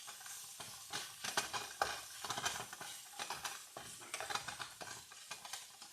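Smoked sausage sizzling in a frying pan with steady crackle and spatter, broken by repeated stirring scrapes, close and moderately quiet.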